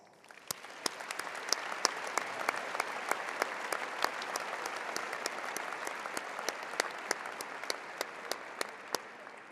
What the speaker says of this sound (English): Please join me in congratulating those students with a round of applause.